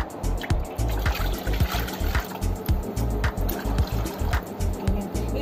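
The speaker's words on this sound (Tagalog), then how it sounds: "At maglagay pa po tayo guys ng tubig." Water trickles and splashes steadily as it is poured into a cooking pot while fried noodles are prepared in a home kitchen, with irregular clinks and bubbling over a continuous low rush.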